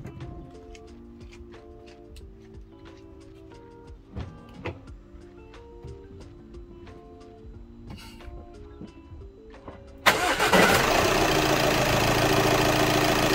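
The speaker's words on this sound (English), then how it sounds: "Start the engine for 25 minutes." An Audi A6 C7 sits quiet amid faint ticking, then its engine cranks and fires about two-thirds through, settling into a loud, steady running roar.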